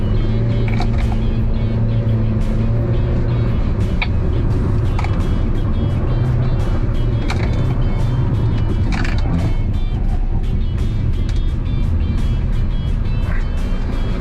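A car derived from the MG ZS is test driven on a course, its engine accelerating with a loud, continuous roar and heavy wind and road noise that stays steady throughout, broken by occasional short knocks.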